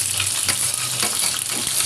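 Green chillies hiss and crackle as they fry in hot oil for an okra curry, a loud, close, continuous sizzle with faint stirring clicks and no talking.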